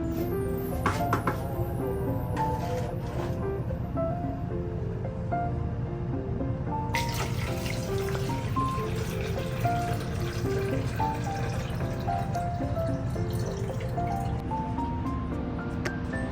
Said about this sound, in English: Next, we will carefully pour the brine into the container.